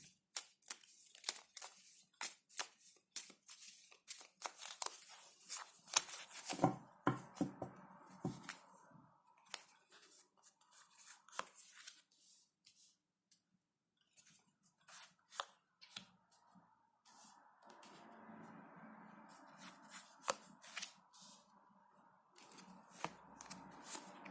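Tarot cards being shuffled and laid out, with crisp riffles and soft slaps and flicks in short bursts, close by and fairly quiet, without speech.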